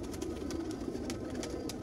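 A low, continuous cooing rises from a flock of Sialkoti pigeons, the black-faced Sheikhon wale type from the India–Pakistan border, with faint scattered clicks and rustles over the murmur.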